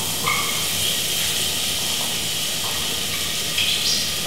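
Chopped onions hitting hot oil, a loud broad steady hiss with a few brief clinks over it, no talking.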